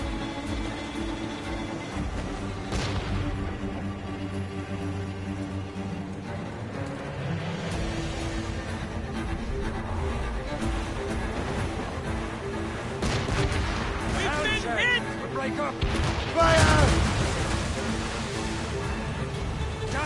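Ship cannons firing during a naval battle in Assassin's Creed Rogue: booming shots punch through dense, continuous battle noise, with the heaviest blasts near the start and toward the end.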